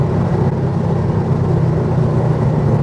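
A Porsche 964 Carrera engine runs hard near the red line, producing a loud, steady, dense drone that fills the whole stretch without pause or voices.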